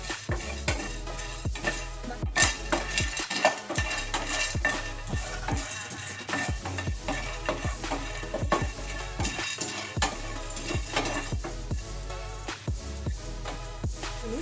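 Whole spices for homemade pulao masala powder are dry-roasted lightly in a pan, with rapid repeated scraping and clinking strokes of a spatula over a faint sizzle, no speech.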